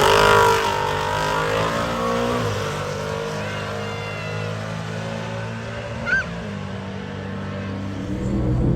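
Drag race car at a 352 shootout, engine holding a steady loud drone throughout with harmonic rumble, a brief sharper burst near the end, and faint voices underneath.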